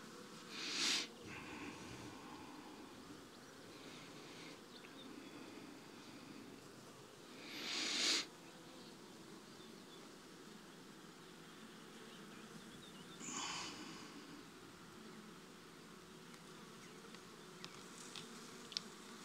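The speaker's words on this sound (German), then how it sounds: "wenn so viele Bienen drin sind" Dense, steady hum of many honey bees buzzing in an open hive during a swarm check, close and continuous, with a few louder swells as individual bees fly near, no voices.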